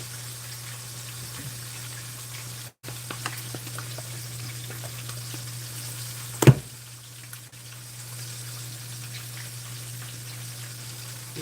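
Seasoned yellowtail fish fries in hot oil with a low, steady sizzle and crackle under a constant hum, broken by a few clicks and one sharp clatter partway through, with no talking.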